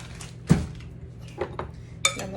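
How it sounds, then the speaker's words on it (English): Spoon clinking against a bowl while sugar is stirred into cucumber salad, a few separate taps and scrapes spaced over a couple of seconds, close and fairly quiet with no talking. "I'm going to go ahead and stir that."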